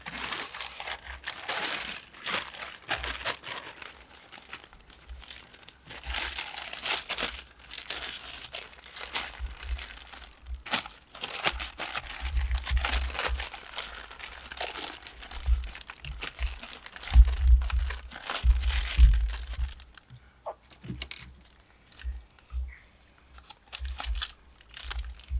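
Glossy plastic crinkles and rustles up close as it is wrapped around sphagnum moss on an air-layered mugo pine, irregular crumpling bursts lasting throughout, fading near the end.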